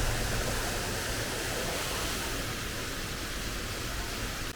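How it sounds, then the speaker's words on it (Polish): A waterfall near Lake Iseo in Lombardy roars close and steady, a dense unbroken rush of falling water with no talk over it. "wodospady obczajone"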